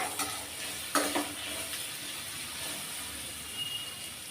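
Onions fry in a pan for Kumbakonam kadappa, a steady sizzle with a few sharp stirring scrapes near the start, close and continuous with no talk.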